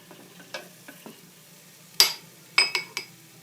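Tomato paste and garlic are stirred in a pot for Algerian chorba frik: a low sizzle with soft scrapes, then a sharp clink at two seconds and several quick metallic knocks near the end, no talk.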